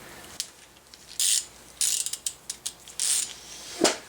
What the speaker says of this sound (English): I'm going to take this nut, try to loosen it.